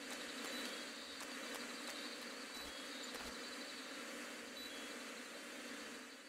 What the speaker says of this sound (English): Oh my god, I have so many bees!